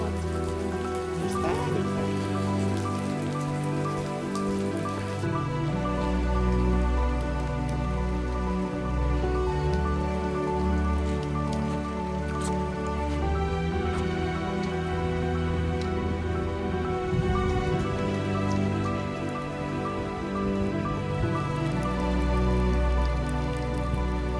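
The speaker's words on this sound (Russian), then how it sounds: "у нас тут не капает, а там такой ливень" Heavy rain pours steadily in a downpour on Madeira, a dense continuous roar with dripping from a sheltered spot, with no talk and no pause for the whole stretch.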